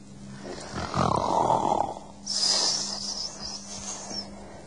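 A man snores in two drawn-out breaths, a rasping inhale followed by a hissing exhale, close and moderately loud.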